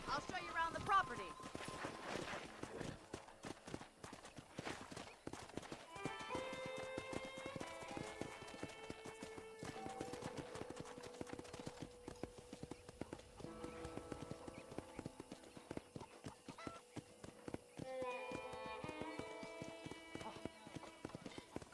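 Steady clip-clop of horse hooves at a walking pace in Red Dead Redemption runs throughout, under tonal game music and spoken dialogue.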